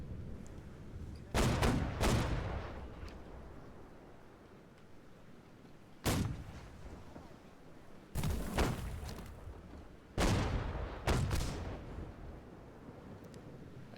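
Warships firing their guns in a naval battle video game: several booming salvos at irregular intervals, some in quick doubles, each with a rumbling decay, loud and close over a low ambient bed.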